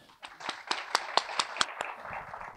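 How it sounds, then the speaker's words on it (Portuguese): An audience applauds a speaker at a talk event, giving about eight distinct, sharp claps spaced in a loose rhythm. The claps sound close and moderately loud and fade into a softer patter. "Os espectadores aplaudem a fala de Danilo"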